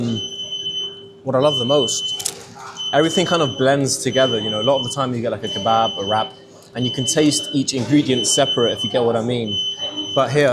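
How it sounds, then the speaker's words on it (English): A high electronic alarm beeps repeatedly in a steady pattern throughout, loud enough to be heard clearly under a person talking close up while eating at a food spot in San Francisco. "sorry about the beeping"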